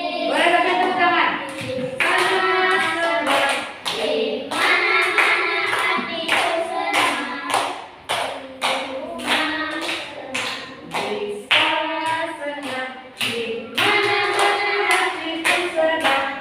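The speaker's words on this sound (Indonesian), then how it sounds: "Boleh sampai tepuk tangan." Rhythmic hand clapping keeps time with a group singing the Indonesian children's song "Di sini senang, di sana senang", sharp regular claps mixed into the voices throughout.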